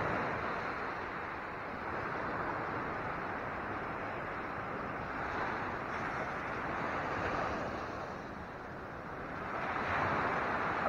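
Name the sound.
big ocean waves breaking on the shore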